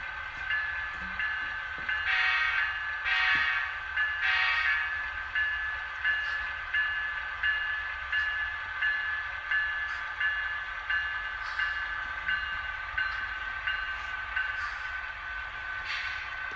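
DCC model train with F7 locomotives running on a large layout, a steady rolling rumble with soft ticking rail clicks and faint repeated electronic locomotive sound tones, continuous and fairly close.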